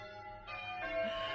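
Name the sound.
church bells ringing on a Sunday morning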